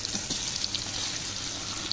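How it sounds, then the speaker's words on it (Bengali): Olives are dropped into hot oil while making olive-oil pickle, giving a steady soft sizzle and bubbling hiss that runs evenly throughout, moderately quiet and with no talking. "তেলটা গরম হয়ে গেছে, এখন আমি জলপাইগুলো দিয়ে দিচ্ছি।"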